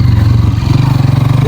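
Motorcycle riding across a sandy desert area, its mid-pitched engine chugging steadily and loud throughout with a continuous throbbing rhythm and a slight rise in pace.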